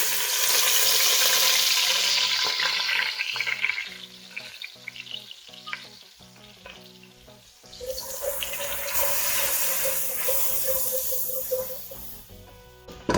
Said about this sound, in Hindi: अब हम सेम ऑयल के अंदर अदरक लहसुन का पेस्ट ऐड करेंगे